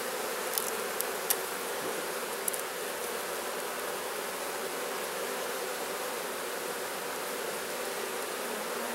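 Honey bees buzz steadily around an open beehive during a frame inspection, a dense, continuous hum that holds level throughout with no voices.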